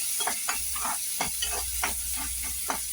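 Chopped onion, green chili and ginger sauté in a pan, a steady sizzle of frying broken by repeated scraping stirs at a fairly regular pace, close and alone with no talking.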